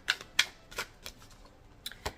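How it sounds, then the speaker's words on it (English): Cards are riffled and shuffled in short crisp bursts, several quick flutters separated by brief pauses, close and fairly quiet. "I'm going to shuffle."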